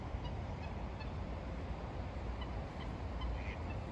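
Ducks and other fowl calling along a river, with honking bursts over steady loud running water and broadband outdoor noise, continuous throughout.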